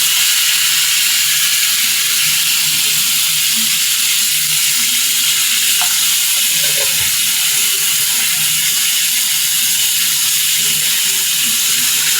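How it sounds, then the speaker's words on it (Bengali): Potato pieces fry in hot oil in a kadai, a steady bright sizzle that holds evenly for the whole stretch, close and fairly loud, with a faint clink or two and no voices. "এখানে আমি আলুগুলোকেও ভেজে নিচ্ছি"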